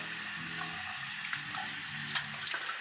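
Water runs from a tap over a makeup brush being rinsed, a steady close hiss of flowing water with light splashing and no talk.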